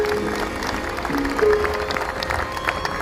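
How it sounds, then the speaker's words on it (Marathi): Audience applause at a live Marathi song concert, heard as a steady, dense wash of clapping that fills the whole clip at a moderate level, with faint tonal sounds running underneath. "एकदा पुन्हा एकदा जोरदार टाळ्या झाल्या पाहिजेत."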